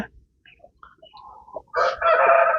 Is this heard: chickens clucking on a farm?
yes